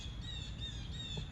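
Birds calling outdoors in the woods, a faint steady chatter of high squawking calls lasting just over a second, with no voices.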